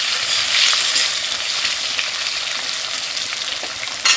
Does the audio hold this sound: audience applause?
no